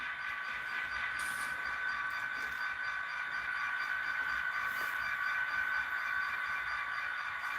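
Model train with a couple of added auto rack cars running on its track, a steady continuous rolling hum with faint intermittent clicks, moderately quiet and close, with no voices.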